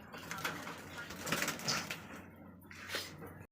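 Giribaz pigeons, one white and one cumin-coloured, coo quietly in a loft, with low murmuring coos and a few soft flutters under faint background noise.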